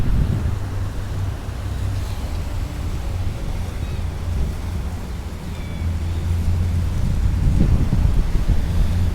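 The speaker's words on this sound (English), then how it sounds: "I don't know whether you can hear the the wind on the mic." Wind rumbling across the microphone outdoors in Victoria Park, Sydney, a constant low buffeting roar that swells louder toward the end, with no clear talk over it.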